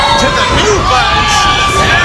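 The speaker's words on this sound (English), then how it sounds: "it sounds like the crowd is clearly divided" At a live wrestling event, a crowd cheers and shouts for a couple of seconds. Scattered voices rise over a dense, roaring background.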